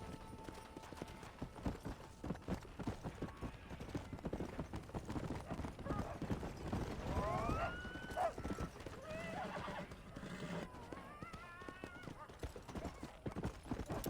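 Horse hooves clip-clop in Red Dead Redemption 2 gameplay, with a whinny partway through, all quiet and low in the mix beneath ongoing conversation between two people.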